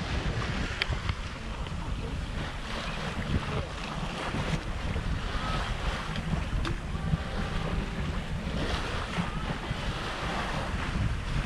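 A sailboat under way with its genoa being unrolled, sailing from Majorca to Cabrera: steady wind roar on the microphone mixed with water rushing and wave wash against the hull, continuous and fairly loud throughout, no voices.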